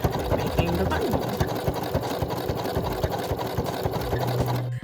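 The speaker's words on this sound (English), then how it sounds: "you just sew, and it starts making the buttonhole" A domestic sewing machine stitching a buttonhole runs in a steady, fast mechanical patter of needle strokes, close and continuous for the whole stretch, with a low motor hum beneath.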